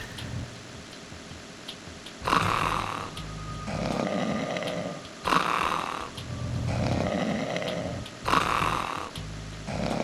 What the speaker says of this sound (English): This guy's snoring.